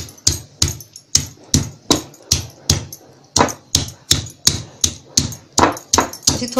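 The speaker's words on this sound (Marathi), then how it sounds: "लसूण थोडी अशी चेचून घ्यायची।" Garlic cloves are pounded and crushed for a fenugreek and coconut vegetable dish, a steady series of about twenty sharp, heavy thuds in an even rhythm, close and loud.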